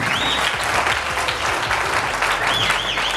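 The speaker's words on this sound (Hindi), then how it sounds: "इनके लिए एक बार जोरदार ताली दोनों के लिए।" Loud, steady applause from an audience clapping for two participants, with a few whistles and cheers rising over the dense clapping.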